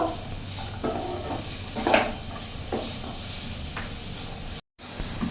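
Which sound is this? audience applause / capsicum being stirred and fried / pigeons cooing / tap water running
capsicum being stirred and fried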